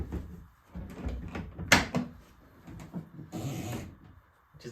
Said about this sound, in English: the doors don't open sideways, they open up.